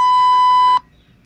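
A single steady electronic beep, loud and clean, sounds for just under a second and then cuts off into near silence, used to mark an edit point.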